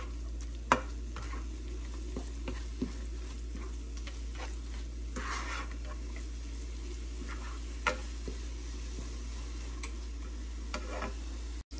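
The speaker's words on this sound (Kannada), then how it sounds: "ಇದು ಫ್ರೈ ಆಗಿದೆ. ಬೀಟ್ರೂಟ್ ಆಮೇಲೆ ತೆಂಗಿನಕಾಯಿ ಮಿಕ್ಸ್ಚರು." A beetroot and coconut mixture fries over medium heat in a pan, with a low, steady sizzle and scattered scraping knocks from stirring.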